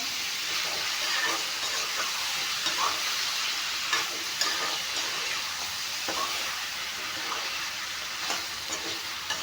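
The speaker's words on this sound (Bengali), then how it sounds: "এতিয়া এইখিনি অলপমান ভাজি ল'ম" Salted goat mutton frying in a pan for curry, a dense continuous sizzle close up, broken by occasional scrapes and clicks of stirring, with no talking.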